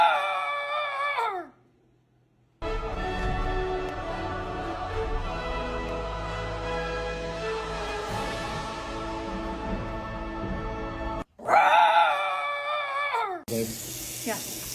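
A person mimics a dinosaur roar with drawn-out, wavering howls and falling yowls, loud and close, while a water tap runs in a sink under one long cry; brief speech comes between the roars.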